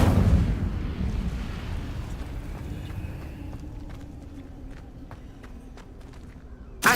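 Incendio fire spell cast in Hogwarts Legacy: a loud, rumbling burst of flame opens, then fades into a crackling tail with light scattered ticks, and a fresh sharp burst cuts in at the very end.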